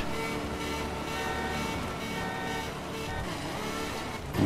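A Ferrari F12 and Ferrari 458 roar off the line together in The Crew racing game, engines droning loud and steady with rising harmonic whine, a sharp burst at the very end.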